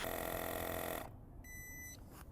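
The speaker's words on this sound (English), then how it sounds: "it stops and it starts beeping" An UpBeatPlus portable tire inflator's air compressor hums loudly, then cuts off, and a short electronic beep follows, close and clear with no talking.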